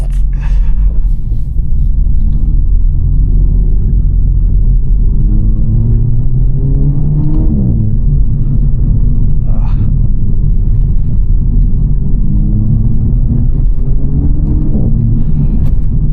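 A 2024 Renault Megane RS 300 Trophy drives steadily, its engine a loud, continuous low rumble heard from inside the cabin, with gentle pitch shifts as revs rise and fall.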